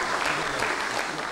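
Audience at a live Uzbek performance show bursts into brief, dense applause, clapping steadily and loudly throughout.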